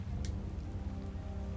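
Steady rain falls throughout in the video game Tales of Vesperia, a continuous low wash of patter with a brief brighter splash near the start and no voices.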